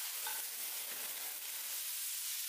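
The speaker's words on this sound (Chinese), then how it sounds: "油热放入大蒜、干辣椒，爆香后倒入土豆丝，" Shredded potatoes stir-fried with garlic and dried chili in hot oil, a steady close sizzle with light stirring scrapes throughout, no voices.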